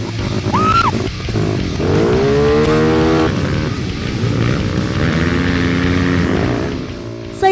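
Motorcycle engine revving and straining while stuck in a muddy rice paddy, loud and close, pitch rising and falling in sustained surges with a brief whine near the start and a sharp noise at the end.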